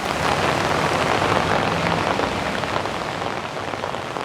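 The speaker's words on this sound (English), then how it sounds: "this rain really is a little on the hard side, and it's not stopping anytime soon" Heavy rain pours down in Ximending, Taipei, as a loud, dense, unbroken hiss of drops on surfaces, with no talking.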